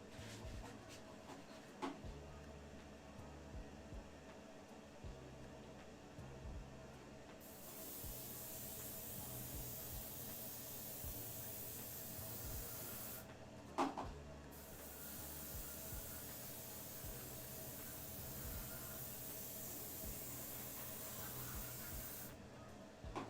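White paint sprayed from an airbrush in long steady bursts, a soft close-up hiss that starts and stops a few times, with small clicks and handling noises between passes.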